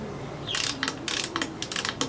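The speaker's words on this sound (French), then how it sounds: "clé Allen de 8, inversée du coup, puisqu'on visse." An 8 mm Allen key tightening a pedal on a Chinese TT01 bike gives a series of quick close metallic ratcheting clicks in short bursts, alone with no talk.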